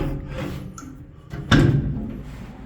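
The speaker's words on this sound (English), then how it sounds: "I'm gonna shut this door back." A heavy steel fireroom door on the USS Lexington swings shut with a single solid thud, preceded by faint scraping and handling noises, close by with no talk.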